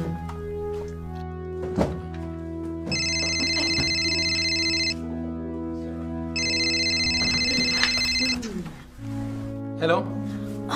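A telephone rings in two bursts of electronic trilling, bright and steady, over a sustained musical backdrop with occasional thumps.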